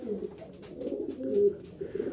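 Pigeons in a breeding loft cooing close by, a continuous low throaty burble of overlapping coos with a few soft wing or shuffle sounds and no talk.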